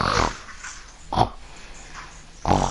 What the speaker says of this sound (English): It looked like some kind of human, but it oinked.